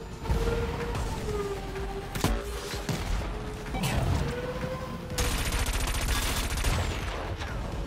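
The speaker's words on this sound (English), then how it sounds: "Rockets. Missile." Weapon fire in the futuristic racing game Wipeout Omega Collection: sharp rocket and missile launches burst out at intervals over a loud, continuous roar of racing engines and music.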